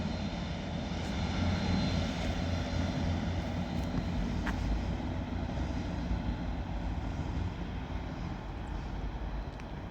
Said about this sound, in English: that Northern Class 158 heads over the Manchester to Southport line now